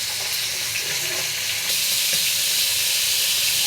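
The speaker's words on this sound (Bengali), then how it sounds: "একটু কড়া করে মাছটি ভাজা দিয়ে নিন।" Small kachki fish are frying in a hot pan with a continuous hissing sizzle. The sizzle grows a little louder partway through, with faint scraping from stirring and no voices.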